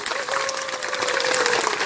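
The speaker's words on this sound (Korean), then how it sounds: "한 분 한 분 좀 이렇게 큰 박수로 환영해주세요" An audience at a Namhansanseong history concert claps steadily to welcome panelists, with a faint sustained tone running beneath the even wash of hands.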